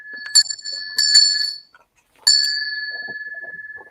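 A small bright bell rung to mark a sale, struck in a quick double ding, then again, then a longer ringing strike that decays with audible beating, close and clear with faint rustling after.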